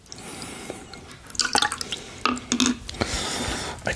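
Water in a bowl gives soft dripping, splashing and squishing sounds in irregular close bursts, heard alone with a faint background hiss.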